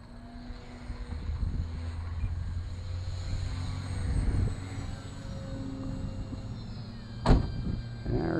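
Waco biplane model aircraft flying at an RC field on a windy, rainy, cold day, a steady engine drone fairly distant through most of the stretch with a sharp close knock near the end.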